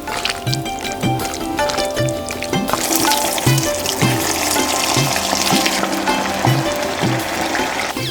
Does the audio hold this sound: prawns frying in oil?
yes